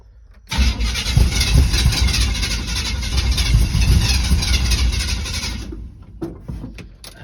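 Chevrolet C10 sleeper truck engine cranking and catching, then roaring loudly and unevenly for several seconds before dying away, followed by a few faint knocks and rustles.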